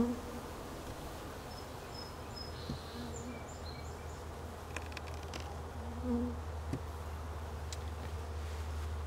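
Honeybees at an open hive holding honey boxes, an outdoor setting: a continuous low, soft buzz with a few faint passing tones and light clicks over the top, and no voices.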